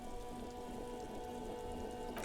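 Steady rain falls in the Disco Elysium game world, a dense, even patter on surfaces with a low hum beneath, continuous and fairly near throughout.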